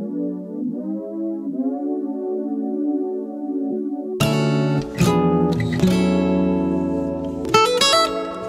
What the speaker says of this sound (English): I just doubled the guitar chords on a little retro synth with some portamento